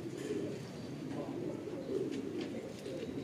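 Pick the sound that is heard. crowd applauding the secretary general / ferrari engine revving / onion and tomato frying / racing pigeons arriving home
racing pigeons arriving home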